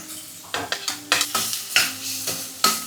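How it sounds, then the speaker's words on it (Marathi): Onion with a little salt cooking in a pan, with a steady close sizzle broken by a series of rhythmic stirring and scraping strokes from a spoon. "थोडंसं मीठ टाकते कांदा शिजायला लवकर कांदा शिजवून घेऊ द्या कांदा शिजतोय"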